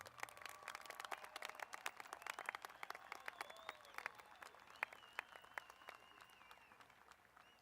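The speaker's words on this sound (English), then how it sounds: "give a round of applause, absolutely" Graduating class of 2023 applauded at a high school commencement ceremony, a faint, distant steady patter of many hands clapping that tapers toward the end.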